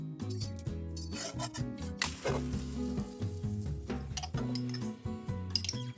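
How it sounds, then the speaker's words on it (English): A crepe sizzles as it fries in a frying pan, with a steady crackling hiss broken by short scraping and rubbing strokes, close and continuous, with no voices. "Continue to fry until golden brown."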